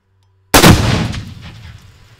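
Two pounds of explosive detonate in a single sudden, very loud blast after a brief silence, with a rumbling decay that fades over about a second and a half.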